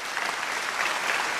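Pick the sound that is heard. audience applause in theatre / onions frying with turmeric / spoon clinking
audience applause in theatre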